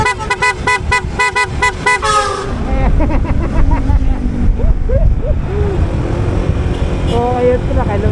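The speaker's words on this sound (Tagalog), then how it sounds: "malakas pa ang busina natin" A vehicle horn on a road drive in Dingalan gives a rapid series of loud, sharp honks, then fades into engine and road noise from passing traffic with another brief honk near the end.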